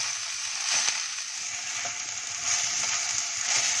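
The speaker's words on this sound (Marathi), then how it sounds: "गॅसची फ्लेम मंद करूनच ही भाजी परतायची म्हणजे वाफेवरती मऊ होते." Amaranth leaves stir-fried on a low flame in a kadhai give a steady soft sizzle with faint scraping from stirring, close and alone.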